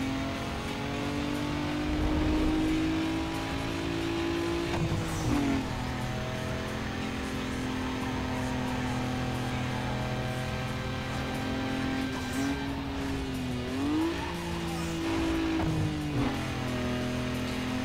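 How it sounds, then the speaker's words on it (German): A tuned street-racing car in Need for Speed Underground 2 drones steadily, its engine pitch dipping and climbing as it shifts and revs through corners, with a faint voice talking underneath. "Also die Autosounds hier, die hören sich schon brachial geil an."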